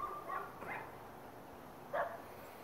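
A loose dog running in the street barks from a distance, a few faint, scattered barks and yips rising above a quiet outdoor background with no one talking.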